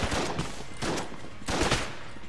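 Rapid gunfire in the twin-stick shooter Enter the Gungeon, three quick clustered bursts of crackling shots in close succession, fairly loud with no speech.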